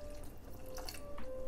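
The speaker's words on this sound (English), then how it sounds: "Gonna add in 1/2 cup of water." Half a cup of water is poured into a pan of broccoli mac and cheese, a brief close splashing pour with a few drips.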